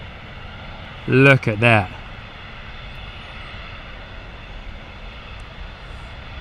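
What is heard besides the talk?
Emirates Boeing 747 departing Stansted, banking left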